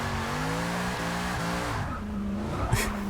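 Chevrolet Impala lowrider built for drifting in Forza Motorsport 6, its engine droning with stepped revs while tires squeal through a slide, the engine note dropping away near the end as a brief screech flares.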